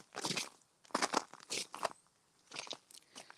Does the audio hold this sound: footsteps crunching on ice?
yes